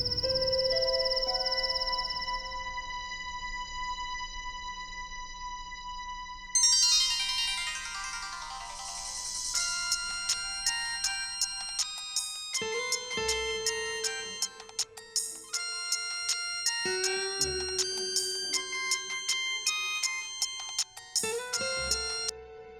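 A phone ringtone plays during an attempted call, a loud electronic melody with a tonal opening that shifts into a run of rapid, rhythmic repeated notes, heard alone without any talking.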